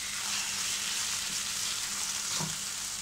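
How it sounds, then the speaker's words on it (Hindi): Boneless chicken breast pieces, about 350 g, frying in a pan over medium heat, giving a steady, close, continuous sizzle with no talking. "अब मीडियम हीट पे चिकन का कलर चेंज होने तक फ्राई करेंगे।"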